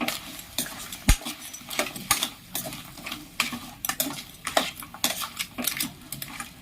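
Spoon scraping and clinking against a pan while crab masala is stirred, Chettinad style, with irregular close metallic taps and light scrapes, faint sizzle underneath.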